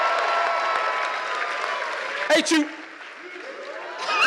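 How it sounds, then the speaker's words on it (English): An audience applauds Taraji P. Henson at a panel event; crowd clapping sits under a loud host voice, with a brief shout and cheer before the applause thins out. "please give the Howard graduate, Miss Taraji P. Henson, a round of applause"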